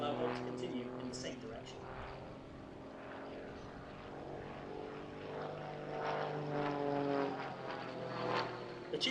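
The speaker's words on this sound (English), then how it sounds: "The Tutor solo display have this aircraft and 3 white Tutors at their disposal" A Grob Tutor propeller training aircraft flies a display at an airshow, a steady droning engine and propeller hum heard from a distance, with a person talking over it throughout.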